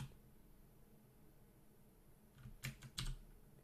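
Keys tapped on a computer keyboard during a game of Dungeon Crawl Stone Soup, a few quick clustered presses near the end after a quiet stretch, close and crisp with no talking.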